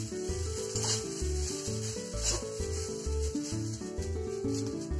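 Soaked rice for basanti polao being fried and stirred in a pan gives a steady scraping, rubbing sizzle under louder rhythmic background music.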